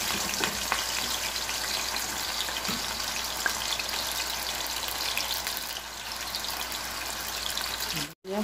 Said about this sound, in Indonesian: Sekarang aku mau ngegoreng dulu ini kentangnya ya.